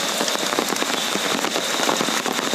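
Heavy monsoon rain pours down in a dense, steady roar of close drops pattering on surfaces, loud and unbroken with no voices.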